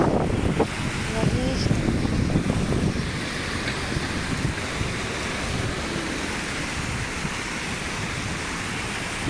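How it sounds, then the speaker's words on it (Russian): Strong wind gusts roar and buffet the microphone at an outdoor spot near a fountain, loudest in the first few seconds, then easing into a steady rumbling rush. "Ветер какой сильный поднялся"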